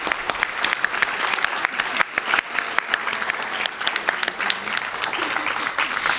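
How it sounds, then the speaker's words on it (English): Scouts at a district recognition dinner break into lively applause, a dense crowd of clapping that fills the room steadily, with voices mixed in underneath. "Scouts clap, let's go!"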